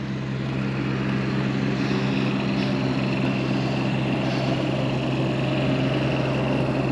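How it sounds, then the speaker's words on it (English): A diesel motorhome's onboard generator runs steadily at close range, a constant low hum with a droning tone and no breaks. The motorhome is a 2005 National Tropical LX 350 Class A. "That generator fires right up."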